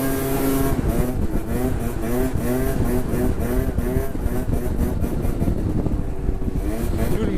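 A stock, all-original scooter engine revs hard and buzzes continuously through a wheelie attempt, loud and close, its pitch wavering with throttle changes while people talk over it.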